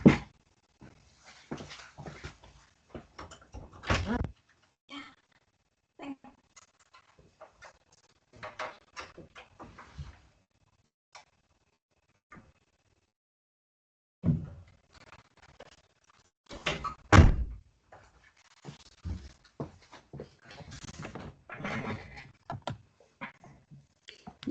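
A small dog whines at a closed door, followed by clicks and knocks as the door is opened, in intermittent bursts with quiet gaps across a room.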